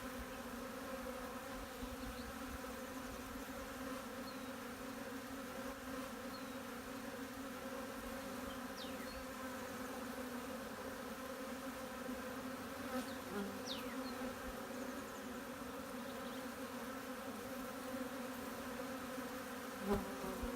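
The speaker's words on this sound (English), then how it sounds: "all these bees we're seeing are bees coming back from the field" A steady, droning hum of many honeybees buzzing together as foragers return to the hive, continuous and even throughout, with occasional single bees passing closer.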